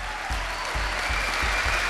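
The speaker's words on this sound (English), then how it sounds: "Yes, clap your hands now." A studio audience at a live dance-crew competition show in Malaysia bursts into dense, steady applause that fills the room, with a faint rhythmic thump underneath.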